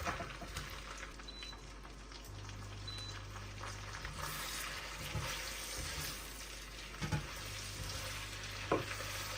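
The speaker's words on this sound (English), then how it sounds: "fry it until the oil turns red" Beef brisket fries in oil in a pan for Sichuan-style braised beef, a soft steady sizzle with occasional stirring scrapes, fairly quiet and close, no voices.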